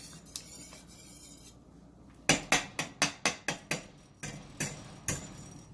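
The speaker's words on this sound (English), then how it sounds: "I'm going to stir that up." A spoon stirs lasagna sauce in a cooking pot, knocking against the metal in a quick run of about eight sharp, evenly spaced clinks, then a few slower taps.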